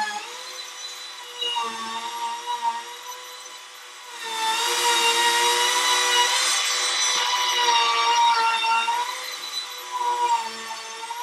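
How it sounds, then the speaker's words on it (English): A router cuts out a wooden template for leather molds with a high, steady whine. The pitch drops and swells into a louder, rougher cutting roar as the bit bites into the wood mid-clip, then eases back, with no voices. "I have my router set to the suggested speed"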